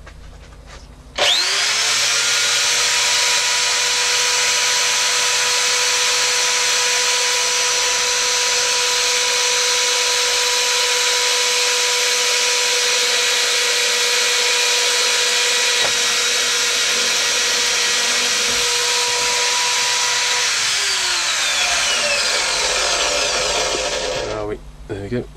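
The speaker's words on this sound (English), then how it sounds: "And that needs to go into our drill press again." A drill press boring 6 mm holes for knife sheath eyelets runs with a steady, loud whine and high rubbing hiss for about 23 seconds, starting abruptly and spinning down near the end; no talking.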